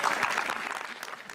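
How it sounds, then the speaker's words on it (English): Steady clapping from several people, a dense patter of hand claps continuing throughout at moderate volume. "Clap it up, man."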